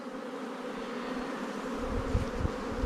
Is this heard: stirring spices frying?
no